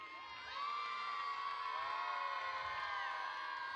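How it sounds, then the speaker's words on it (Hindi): A crowd at a school annual function cheers and whoops for a young double gold medalist in national karate. Children's shouts and cheering voices swell after a brief quieter start and hold in a lively, sustained roar. "जोरदार तालियां हो जाएं इस छोटी बच्ची के लिए."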